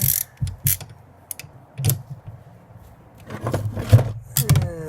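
A torque wrench on a long extension clicks and ratchets in short, irregular bursts while working on the front shocks of a Jeep ZJ, with metallic clatter between strokes, close by.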